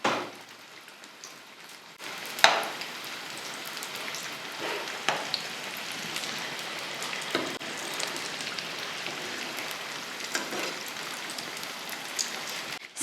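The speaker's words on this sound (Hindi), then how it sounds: "समोसे यहाँ पर फ्राई हो चुके हैं।" Mini samosas made from samosa pastry strips frying in hot oil, a dense, continuous crackling sizzle like rain, with a few sharper pops and clinks standing out.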